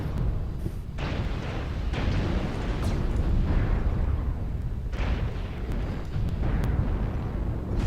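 Airstrike explosions in MechWarrior Online roll in as a dense, continuous barrage of deep booms and crackling blasts, loud and sustained with sharp impacts layered through.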